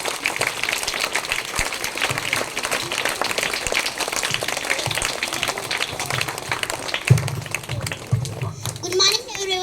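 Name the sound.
school audience applause for students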